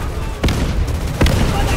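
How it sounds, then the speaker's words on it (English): Artillery fire in the World War II video game Easy Red II at the Stalingrad Volga River crossing: two sharp, heavy booms about three-quarters of a second apart over a constant rumbling battle din. "German artillery has us dialed in"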